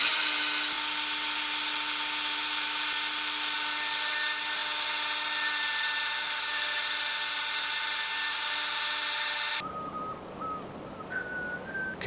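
A Dremel rotary tool with a 1/16-inch cylinder bit whines steadily at high pitch while drilling a hand-built leopard frog spoon/jerkbait fishing lure, then cuts off abruptly near the end, leaving quieter scraping and faint tones.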